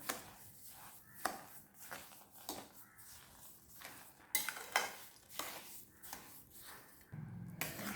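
Grated pumpkin and sugar are stirred together in a pan for halwa, with repeated close scraping and tapping strokes at an uneven rhythm over a quiet background.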